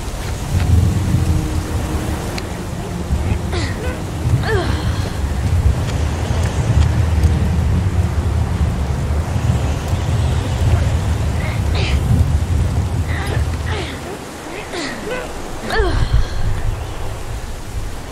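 Steady heavy rain pours outdoors in the video game Heavy Rain, with deep thunder rumbling low beneath it and a few brighter splashes and gusts over the constant hiss.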